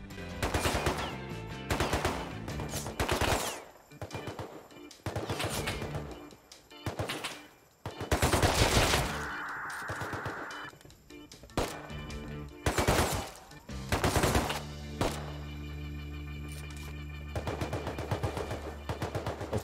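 Repeated bursts of automatic gunfire in a video game base raid, fairly loud and close, coming in rapid volleys separated by short pauses, with occasional clanking thuds between.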